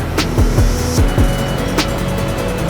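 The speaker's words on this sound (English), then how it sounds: "Got the tuk-tuk coming up behind me." In a Thai street market, a motor vehicle engine hums steadily nearby with rising and falling whines over continuous road and traffic noise, fairly loud and close, no talk.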